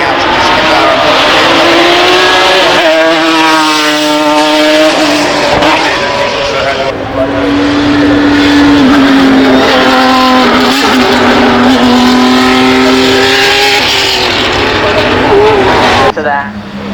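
A McLaren race car drives at the Goodwood Festival of Speed. Its engine is loud and close, revving up through the gears with rising and falling whines over a crowd-noise background, and a commentator talks over it.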